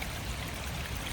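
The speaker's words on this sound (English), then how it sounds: "You can see how this little stream of water is just slowly wearing away at that log." A small stream of water trickling over a log along a trail in Glacier National Park, a close, steady babbling gurgle, quiet and continuous with no voices.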